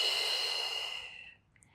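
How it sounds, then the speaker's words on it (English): A long, steady exhale of breath during a gentle beginner Pilates mat workout, close and breathy, fading out over about a second and a half. "And exhale."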